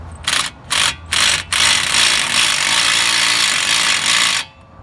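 A 36 mm nut on a Chevy Volt is tightened with a power tool: three short loud bursts, then a sustained whirring run that stops abruptly, heard close up.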